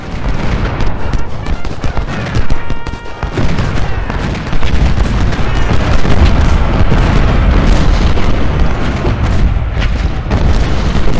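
Deep booms of artillery fire in Ultimate General Civil War, during a battle at Fredericksburg, with repeated heavy blasts and rumbling over a constant loud battle din, and talk mixed in.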